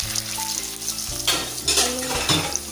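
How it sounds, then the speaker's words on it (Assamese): Potatoes fry in hot oil left over from frying fish, giving a steady sizzle, with stirring scrapes and swells of louder crackle partway through. "এতিয়া সেই তেলখিনিতে আলুখিনি ফ্ৰাই কৰি লওঁ।"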